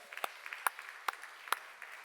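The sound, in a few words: church congregation clapping during sermon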